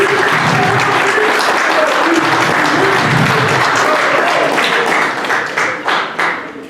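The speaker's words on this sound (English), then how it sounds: "he deserves a great round of applause for running another successful event today." An audience at a hall of fame awards ceremony gives a loud, sustained round of applause. Near the end the clapping thins into scattered claps.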